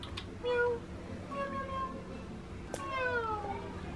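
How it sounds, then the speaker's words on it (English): A cat at a holiday stay in Fiji gives two drawn-out meows, each a few tones long, close by over a quiet background with no talk. "And there's this cat."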